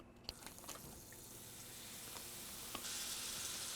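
Four tablespoons of butter melting and sizzling in a pan, ready for sautéing garlic, mushrooms and onion; a steady, soft frying hiss with a few faint clicks, growing slightly brighter toward the end.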